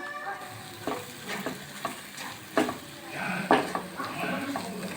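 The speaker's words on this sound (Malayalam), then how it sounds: "അതിലേക്ക് നമുക്ക് ചിക്കൻ മസാല ഇട്ട് കൊടുക്കാം കേട്ടോ. അത് നന്നായിട്ട് മിക്സ് ചെയ്ത് കൊടുക്കാം." Chicken masala is stirred into spices frying in a pan, giving a soft sizzle under repeated scraping and clinking strokes of a spoon, moderately close and fairly quiet.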